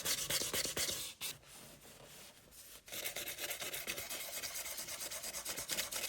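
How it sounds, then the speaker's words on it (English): Rapid back-and-forth rubbing of fine-grit wet sanding on the clear coat of an Italian Gaggia espresso machine, close and steady, with two brief pauses. "I come back to sand, first with 1000 grit, and then with wet"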